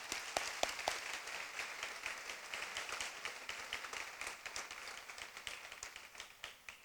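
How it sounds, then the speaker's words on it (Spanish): A church congregation claps to give glory to God after news of a recovery from delicate surgery, a fairly faint, scattered patter of hands with some distinct nearby claps, rising and falling in loose bursts without talk. "Vamos a darle gloria a Dios con un aplauso."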